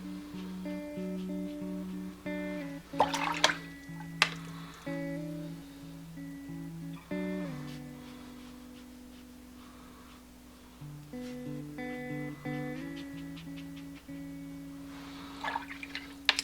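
Water drips and trickles while black watercolour paint is mixed, with scattered small drips and splashes over a sustained musical background, mostly quiet and without speech.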